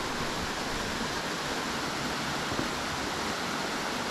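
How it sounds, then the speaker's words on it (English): Low, seasonal waterfall on Ohanapecosh Creek in September, heard as a steady, even broadband rush of falling water with no breaks, fairly close and unvarying throughout. "It's a waterfall!"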